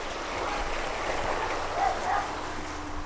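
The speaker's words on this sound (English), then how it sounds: "The water is flowing." A small stream flowing along a countryside hiking trail near Woolsthorpe by Belvoir, a steady rushing wash of water at moderate distance with no talk over it.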